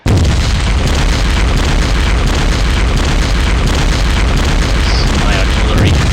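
Artillery explosions in the war strategy game Steel Panthers: World at War, a dense, loud, continuous rolling boom of blasts that fills the entire span without a break.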